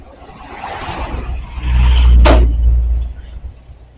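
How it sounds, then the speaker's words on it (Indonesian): A truck passes fast on a road at night, its deep engine rumble swelling to a loud peak close by with a brief hiss, then fading away amid steady traffic and wind noise. "Kencang juga nih mobil truk."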